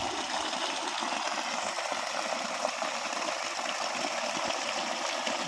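Strong water flow gushing from a 2-inch pipe fed by a 1500W solar-powered BLDC pump, a loud, continuous rushing hiss with a faint mechanical rattle underneath.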